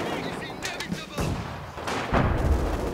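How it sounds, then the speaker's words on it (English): Rifle grenade fire and other gunfire in the WWII strategy game Company of Heroes 2, a quick run of sharp reports and heavier thuds that overlap with battle noise, with a little voice mixed in. "Load rifle grenade!"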